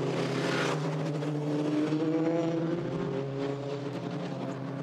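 A British F3 race car on a reconnaissance lap at a blustery Silverstone, its engine note droning steadily and fairly loud at low revs as the driver warms the rear tyres, with a brief burst of wind noise early on.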